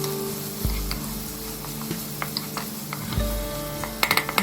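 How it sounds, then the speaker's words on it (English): Chopped onions and green chilies fry in very hot mustard oil, giving a steady close sizzle with occasional spoon stirs and a few light pan clinks near the end. "We will fry them till the onions are golden brown in color."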